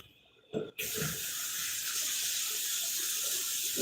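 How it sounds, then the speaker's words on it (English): Water runs from a kitchen tap in a steady, loud hiss after a brief clunk of the handle, pouring continuously and close by until the end. "Let me run me some water"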